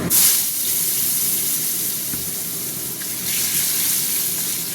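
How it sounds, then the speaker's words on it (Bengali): Potato pieces fry in hot oil for a fenugreek-leaf chorchori, giving a steady, loud, close sizzling hiss that runs unbroken throughout with no talking. "আলুটা একটু ভাজা ভাজা হতে থাক।"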